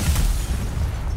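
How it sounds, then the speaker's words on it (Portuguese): Loud, booming blasts with heavy low-end thumps in quick succession, rapid gunfire over a short burst in Call of Duty: Black Ops 6 Zombies mode. "É tiro, é tiro."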